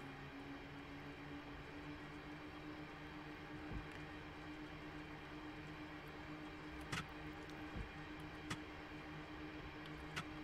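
Diesel train engine in Train Simulator Classic on a Birmingham route, a steady faint droning hum with a sustained tone and a few soft clicks and knocks throughout.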